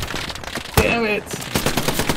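Rapid machine gun fire in Hell Let Loose, a sustained burst of automatic shots with a brief voiced outburst in the middle, then more gunfire rattling on.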